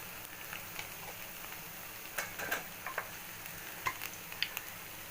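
Turmeric and cumin powder are stirred into banana-flower mixture in a pan, a quiet sizzle under sparse, scattered spoon scrapes and taps, fairly soft and close.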